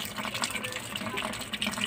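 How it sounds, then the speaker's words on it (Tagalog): Water rushes steadily into an Electrolux fully automatic washing machine through its inlet valve after a mainboard conversion, a continuous close hiss and gush that lasts the whole moment. "lumalabas ng tubig"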